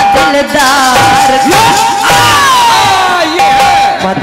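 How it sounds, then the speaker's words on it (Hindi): An audience at an outdoor Hindi folk song performance roars with cheering and shouting, a loud, dense wall of voices with rising whoops and yells that holds for several seconds without a break. "आपकी तालियों के लिए"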